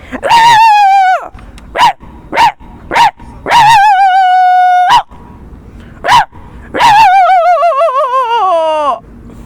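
A person imitates a high-pitched female dog barking: long wavering yelps alternating with short sharp barks, loud and close.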